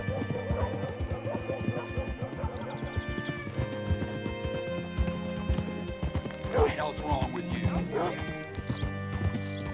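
Horse hooves clip-clop steadily through the town of Rhodes in Red Dead Redemption 2, a continuous game soundscape with occasional whinnies and background music.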